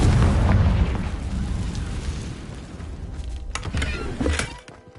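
A Confringo blasting spell explodes in a Harry Potter video game, a loud booming burst at the start that decays into rumbling debris, followed by a few sharp crackling pops near the end.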